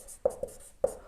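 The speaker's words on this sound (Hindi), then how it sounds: "जैसे ही मैं यहां लिखता हूं अगला" Marker or chalk strokes on a board during a maths lesson, three short sharp taps and scrapes in quick succession, fairly quiet with no talk.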